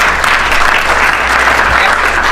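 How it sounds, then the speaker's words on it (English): A magic-show audience breaks into brief, loud applause for a volunteer gentleman, dense close clapping with a low hum beneath and no speech. "Give the gentleman a big round of applause."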